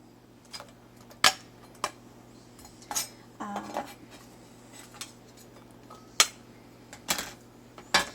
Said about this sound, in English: we're going to take the diced up tomatoes and the diced up onions, and we're going to mix those together